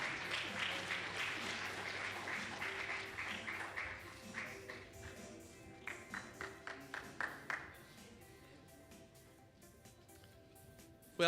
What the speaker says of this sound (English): please, another huge round of applause for Carnegie Mellon University, silver medalists at the North America Championship